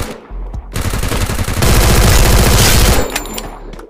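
Rapid automatic gunfire in the Free Fire mobile battle game, a dense continuous burst of loud shots that swells in the middle and then breaks into a few scattered final shots, with no talking.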